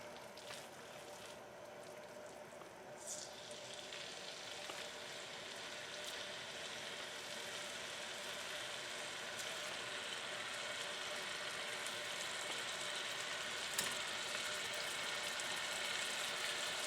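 About four pounds of ground beef fries in a pan on full heat while making homemade spaghetti sauce, giving a steady, dense sizzle that runs continuously and builds slightly louder, with occasional faint clinks.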